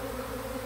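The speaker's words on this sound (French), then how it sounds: "des milliers d'abeilles tout d'un coup qui arrivent pour choisir une nouvelle demeure" A swarm of thousands of honeybees arriving all at once to settle into a new home, a dense, steady buzzing drone that fills the air without pause, close and continuous.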